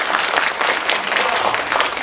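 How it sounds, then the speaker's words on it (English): A crowd at a youth foundation awards ceremony claps steadily and loudly for scholarship recipients, a continuous full round of applause throughout. "give them another round of applause"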